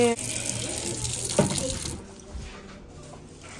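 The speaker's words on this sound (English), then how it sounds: "So I'm rinsing this pan." Kitchen tap water runs over a pan being rinsed in the sink, a close steady splashing hiss that cuts off partway through, with people talking nearby.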